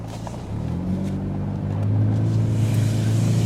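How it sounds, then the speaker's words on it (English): A 2010 Chevrolet HHR LT with intermittent power steering loss, its engine humming steadily and rising slightly as it pulls away for a drive around the block, with no talking. "I'll drive it around here the street real quick."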